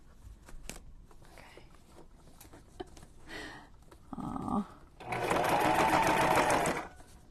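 Fabric is handled and shuffled with a few soft taps and a brief mechanical whir, then a sewing machine stitches in a loud, close, steady buzzing run for about two seconds before stopping.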